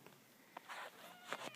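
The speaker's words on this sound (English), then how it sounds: "Meow. I heard that." A two-week-old kitten gives a few faint, short meows indoors, very quiet and close, with soft rustling around them.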